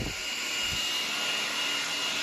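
A PUPPYOO T12 Mate cordless 12-in-1 lightweight stick vacuum runs with a steady whirring motor drone, close and constant, with a couple of soft knocks at the start.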